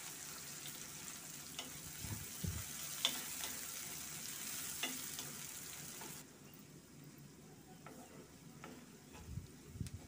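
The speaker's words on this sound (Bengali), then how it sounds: "1 কাপ পেঁয়াজ কুচি দিয়ে দিলাম। নেড়ে চেড়ে হালকা একটু ভেজে" Chopped onions and three dried chillies fry in a pan with a soft continuous sizzle and occasional stirring scrapes, quiet and steady, easing slightly partway through, with no voices.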